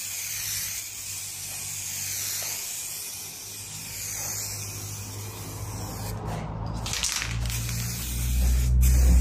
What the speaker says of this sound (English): I decided to use green acrylic spray paint for this.